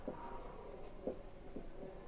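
Pen or marker strokes on a board or paper while a math ratio is written out, soft scratchy taps in a few separate bursts, close and quiet with no talking.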